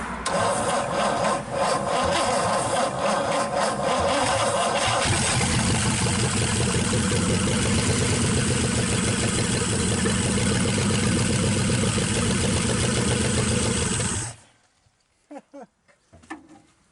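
A 1963 Pontiac 389 V8 just after its first start, idling loud and close with an uneven, lumpy rumble that steadies out, then cuts off abruptly, leaving quiet with a few small knocks.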